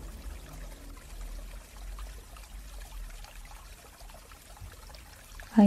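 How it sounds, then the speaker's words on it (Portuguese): A babbling stream flows steadily throughout, a soft continuous trickle and pour of water with a brief louder splash at the very end. "ouvindo o som do riacho"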